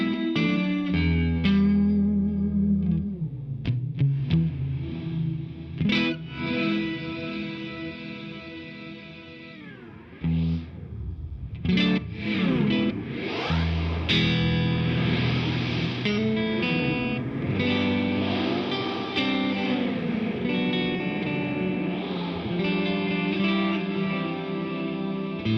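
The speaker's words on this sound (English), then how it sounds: "But it's a reverb pedal." Electric guitar run through an Eventide BlackHole reverb pedal, sustained chords swelling into long washy tails with heavy echo and modulation, played alone without talk for a long stretch.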